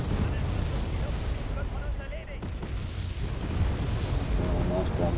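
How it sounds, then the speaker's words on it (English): Bombs explode in the modern military strategy game Wargame: Red Dragon, a heavy, continuous rumble of overlapping booms and blasts that stays loud throughout with a brief dip in the middle. "Oh, nice bombs."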